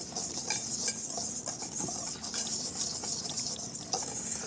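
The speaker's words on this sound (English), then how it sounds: "And then we just whisk the dry mix together." A whisk steadily stirs a dry biscuit mix of flour and salt in a bowl, giving a continuous soft, gritty scraping that stays fairly even and close for the whole stretch, with no talking.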